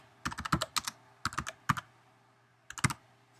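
Short bursts of typing on a computer keyboard, close and fairly quiet, three clusters of quick key clicks separated by brief pauses, with no talking.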